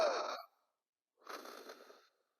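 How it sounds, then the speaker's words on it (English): Deep, slow breathing during a calm guided exercise, two long airy breaths separated by a short silence, close and fairly loud with no talking. "Breathe deeply."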